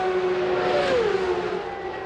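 A CART Indy race car at the 1998 Motegi oval race screams past at speed, a steady high engine whine that dips in pitch as it goes by, under continuous crowd and broadcast ambience.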